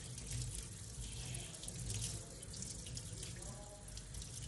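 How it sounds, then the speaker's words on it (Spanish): Cold tap water runs steadily over a whole fish being rinsed of scales and blood in a kitchen sink, a continuous close splashing stream with no talk. "lavarlo con agua fría para quitarle todas las escamas, la poca sangrecilla que haya soltado"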